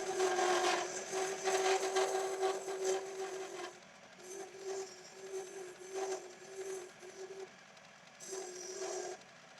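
A wood lathe turning a wooden breadstick roller cutter while a scraper works it, a steady motor hum with a tonal whine and scraping bursts that cut in and out, close and alone without talk.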